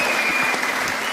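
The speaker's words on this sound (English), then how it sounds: "Give them a round of applause." Short burst of applause, a dense wash of clapping lasting about a second at moderate level with no voices over it.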